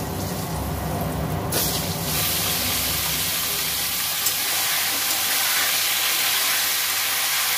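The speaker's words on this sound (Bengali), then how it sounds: "সবজিগুলো আমি ভেজে নেব।" Mixed vegetables such as papaya, potato, carrot and pumpkin fry in a pan with cardamom and cloves, giving a loud, steady hiss and sizzle that runs continuously throughout, with no talking.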